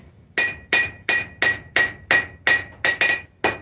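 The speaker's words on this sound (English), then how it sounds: "when you're using a flat-faced hammer on a flat surface anvil" A hammer rings out on metal in a steady rhythm of about ten sharp, bright strikes, each with a short metallic ring, close by and without talk.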